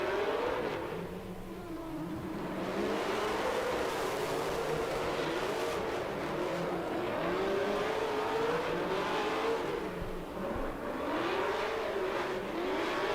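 A drift car at an international drift championship qualifying run screams at high revs throughout, its engine note rising and falling in repeated sweeps as the throttle is worked, loud and continuous with no talking.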